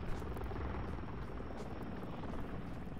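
Helicopter in the shooter video game Modern Warfare 3, a steady rotor drone with dense low thumping, held at moderate level throughout without pause.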